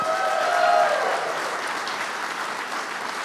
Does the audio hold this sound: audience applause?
yes